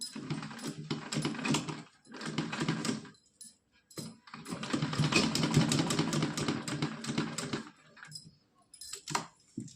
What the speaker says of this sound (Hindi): अब इस पे लगाएंगे सिलाई।